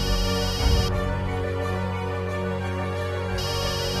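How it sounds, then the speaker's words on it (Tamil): A bell rings in a steady sustained tone with a brief burst at the start, heard alone with no talk. "பாரு, மணி அடிக்குது."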